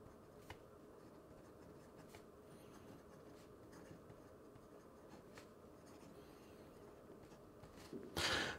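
A broad-nib fountain pen scratches steadily across paper in a quiet room, a soft continuous rasp with faint stroke ticks, ending with a brief louder rustle.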